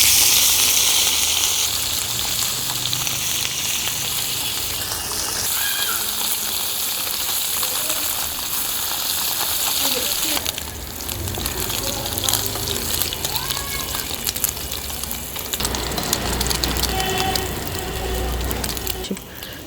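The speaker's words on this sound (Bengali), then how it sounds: "মাখিয়ে রাখা মাছগুলো দিয়ে দিচ্ছি।" Marinated olive barb (puti) fish dropped into hot oil, a loud continuous sizzle and fry that swells as the fish go in, with talk over it.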